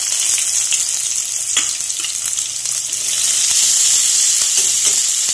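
Chopped onions frying in hot oil with cumin seeds, a steady loud sizzle throughout with a few soft stirring knocks, close and continuous, no talk.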